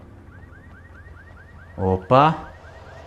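In the video game Alan Wake Remastered, a car alarm sounds a rapid, steady repeating chirp-whoop at moderate distance, running through the clip, while a man briefly exclaims over it.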